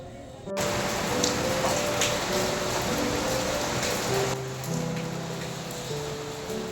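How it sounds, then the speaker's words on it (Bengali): Heavy torrential rain starts abruptly and pours in a dense, steady roar, with faint tonal background hum underneath, no talking. "আবার বৃষ্টি শুরু হয়ে গেছে বেশ মুসুলধারেই বৃষ্টি চলে এসছে"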